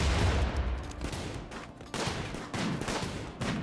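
Sniper gunfire in RimWorld during a colony battle, several sharp shots cracking at intervals of under a second over a dense rumble of combat noise, with no talking.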